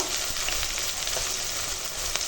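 Onion frying in oil in a pan as ginger-garlic paste is added, a steady close sizzle with faint crackles and a few soft stirring scrapes throughout.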